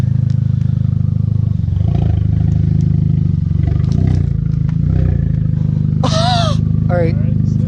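A straight-piped Kia Forte GT turbo engine idles and revs with a loud, raspy drone and throaty surges, while people talk close by and a few sharp high whistles cut through near the end.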